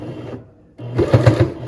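Sewing machine stitching through fleece for a beanie, a short close burst of rapid stitching after a brief quiet gap.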